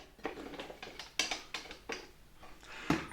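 A 1959 Tula sewing machine converted to a hand crank runs in short mechanical bursts, a rhythmic clatter of needle and gears ticking at a steady pace, close and fairly quiet, with no voices.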